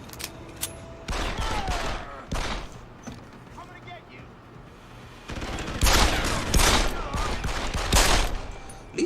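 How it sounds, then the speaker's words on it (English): Pistol gunfire in Deus Ex, with bursts of sharp rapid shots in two main clusters separated by quieter stretches and mechanical clatter, loud and close. "These bullets feel like they're doing real damage to normal people."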